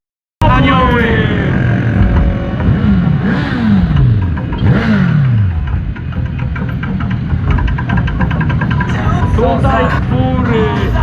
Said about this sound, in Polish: Tak, dobrze słyszycie, 30 motorów.